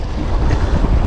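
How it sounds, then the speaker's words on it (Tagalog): Wind and waves around a small fishing boat out at sea, a brief loud rush of low rumbling wind buffeting and water noise with no voices. "Lumalaki alon mga bossing"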